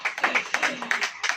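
A church congregation claps together in a quick, steady rhythm, a short burst of fairly loud hand claps.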